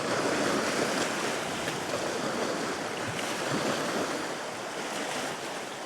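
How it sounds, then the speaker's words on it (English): Ocean waves crash and splash against rocks and pylons under grey, bleak skies, a steady loud surf roar with wind noise, no voices. "Let's wait for a big wave."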